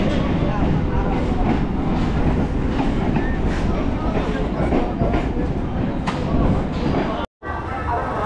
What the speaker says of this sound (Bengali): আমাদের ট্রেন পৌঁছে গেল তারকেশ্বর স্টেশনে